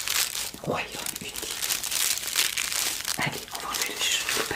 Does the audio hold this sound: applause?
no